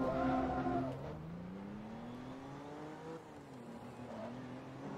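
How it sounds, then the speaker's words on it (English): A Mitsubishi Eclipse GT engine revs at a race start in Forza Motorsport 2, its tone climbing and wavering in a fairly quiet, steady drone. "I keep holding circle while I'm revving the engine and then releasing it when the countdown's done."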